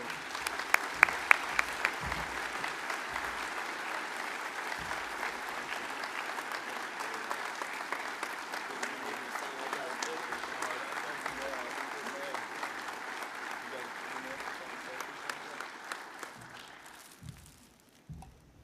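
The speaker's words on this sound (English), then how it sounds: "Please join me in a round of applause." Sustained audience applause at the Ohio EMS Conference awards ceremony for the John P. Moore Memorial EMS Award, a dense steady clapping that runs for most of the stretch with a few louder claps early, then fades out near the end.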